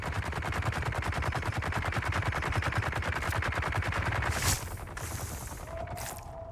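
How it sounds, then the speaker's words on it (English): Rapid, steady machine-gun fire in the video game Dune Awakening rattles on loud and continuous for about four seconds, then cuts off into quieter bursts and a fading tail. "You think that's them shooting at me?"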